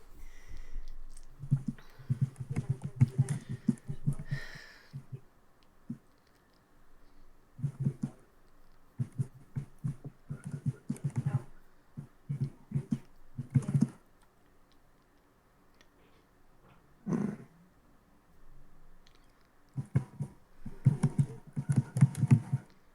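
Someone types on a computer keyboard in irregular clicky bursts with short pauses between runs. The sound is close and moderately loud.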